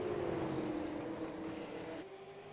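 Race car engine in a racing video game at Bristol, running rough as if misfiring, a steady droning whine that holds loud throughout and shifts pitch slightly near the end.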